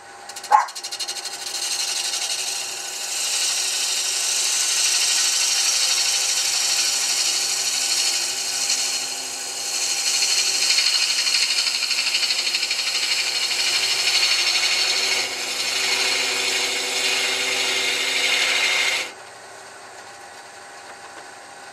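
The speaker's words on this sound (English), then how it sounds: "I'm going to pass it around and do a clean cut." A sharp cutting tool makes a clean cut around a wooden jar. Close, steady rasping and shearing runs unbroken for about eighteen seconds, then stops abruptly.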